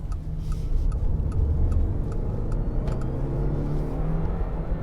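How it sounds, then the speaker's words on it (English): A 2023 Mitsubishi Outlander PHEV's petrol engine cuts in while the car is being driven, giving a steady low drone under continuous road and cabin rumble, with a few faint ticking clicks. No one speaks. "so the engine kicked in"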